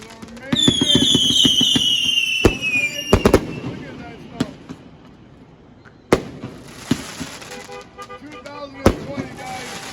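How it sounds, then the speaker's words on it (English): Four finger fireworks go off with a rising whistle followed by sharp cracks and scattered pops, loud and close, while people talk over the bursts. "4-finger fireworks, man."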